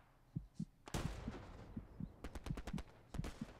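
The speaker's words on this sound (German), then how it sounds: "Hinter uns wird immer noch geschossen." Sharp gunshots from a World War II battle in the tactical shooter Hell Let Loose, set in the Hürtgen Forest, crack in quick irregular bursts behind the player, mixed with muffled thumps and distant shots.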